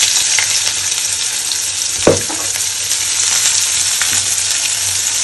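Potatoes and chopped onion fry in a pan with a steady, broadband sizzle, broken around the middle by a brief clatter of stirring.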